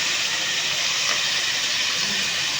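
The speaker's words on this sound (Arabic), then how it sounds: "بنزل بقى بشوحها الاول" Chicken thigh pieces sear in butter in a hot pan, giving a continuous, loud, even sizzling hiss with no pauses and no voices.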